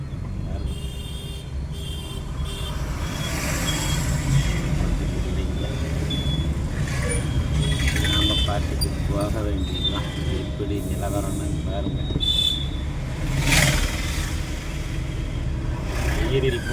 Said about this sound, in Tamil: அழகாக பாருங்கள் ஒரு வண்டி போகுது